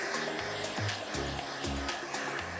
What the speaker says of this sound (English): you can also blow some air underneath it and that curls the very edge of it